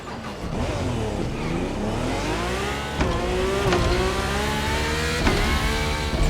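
A Red Bull RB14 Formula race car with halo roars in a racing game, its engine note climbing and shifting through repeated rising sweeps and gear changes, loud and continuous.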